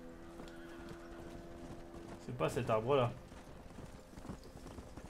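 A horse in the Red Dead Redemption video game clip-clops and gives a short whinny, with someone talking over it.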